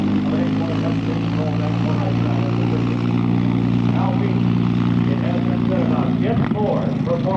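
A Starduster 2 aerobatic biplane performing a snap roll: a steady, loud propeller-engine drone holds throughout, with a narrator talking over it.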